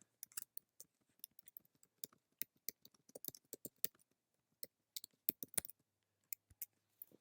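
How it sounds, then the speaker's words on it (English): Typing on a computer keyboard: sparse, crisp key clicks tap out in uneven bursts, close and quiet, with short pauses between words and no talk. "let's type in an important update"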